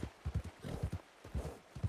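Horse hooves clip-clopping in Red Dead Redemption 2, a quick, even series of close, hollow thuds over about two seconds, with no talking over them.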